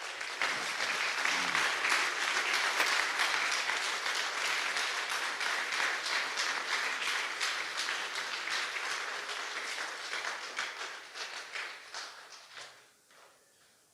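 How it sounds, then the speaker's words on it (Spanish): A church congregation gives a strong round of applause to the Lord, a dense clapping wash that holds steady, then thins into scattered claps and fades near the end, with no talk over it. "quiero que le des un fuerte aplauso al Señor"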